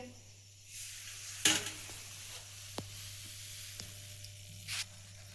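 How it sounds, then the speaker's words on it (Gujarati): Quiet, steady sizzling of samosas deep frying in oil with a low hum underneath and a couple of brief clatters and splashes. "અને હવે બધાય સમોસા આપણે આ રીતે તળી લેવાના છે"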